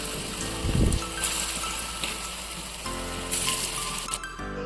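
Pakoras fry in mustard oil with a continuous, fairly loud close sizzle and bubbling hiss, joined by a brief thud of handling near the start, with no voices.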